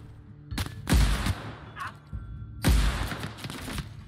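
Sniper rifle fire in The Outer Worlds, two loud separate shots about two seconds apart with booming tails, with faint game sounds between.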